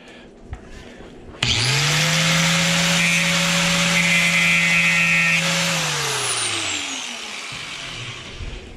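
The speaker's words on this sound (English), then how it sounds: "I can hit it with the grinder." An angle grinder cuts scrap metal held in a bench vise, spinning up abruptly to a loud steady whine for about four seconds, then winding down as it coasts to a stop.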